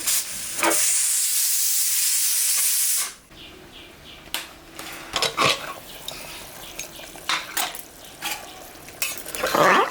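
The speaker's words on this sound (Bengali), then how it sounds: "মাংসটা সিদ্ধ হয়ে গেছে, এখন খালি একটু নাড়াচাড়া করে নামাই দেব" Pressure-cooked mutton curry, first a loud sustained steam hiss for about three seconds, then quieter repeated scraping and clinking as the boiled meat is stirred in the pot.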